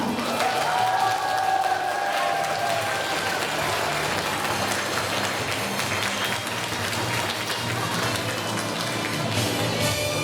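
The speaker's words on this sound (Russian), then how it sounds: "Ребята, аплодисменты для вас." Steady, dense applause from a large audience in a school hall at a ninth-grade graduation ceremony where certificates are handed out, sustained evenly for about ten seconds with faint voices mixed in.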